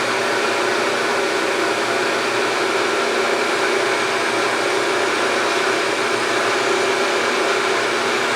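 A milling machine spindle runs while cutting a Browning Citori shotgun stock, giving a loud, steady, unbroken whirring hum that holds constant from start to finish.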